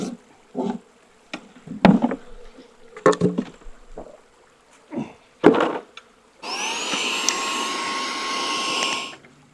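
Bees at a bee yard: scattered bursts of buzzing and rustling give way to a loud, sustained drone near the end, close and intense.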